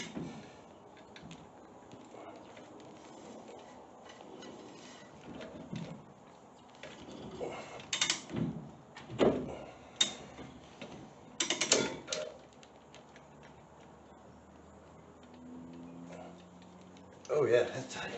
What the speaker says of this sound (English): you need a 3/4 ratchet to adjust wheel bearings on a Dana 60